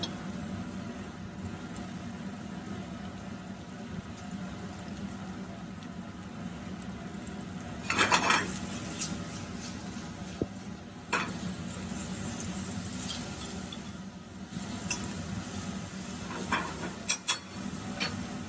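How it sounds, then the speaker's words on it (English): Onions go into a pan with butter and sizzle in a steady low hiss under a constant hum, with a louder crackling burst partway through and a few clinks from the pan later on. "We're going to add to our pan our onions."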